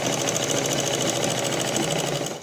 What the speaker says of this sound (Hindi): डबल कॉर्नर पे डबल मशीन चलानी है इस तरह से